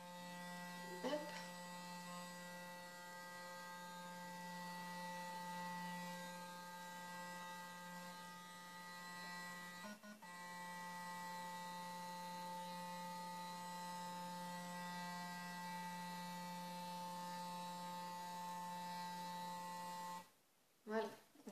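A Clarisonic facial cleansing brush gives off a steady, close electric buzz for about twenty seconds, with two brief beeping interruptions before it shuts itself off, and a short clatter follows.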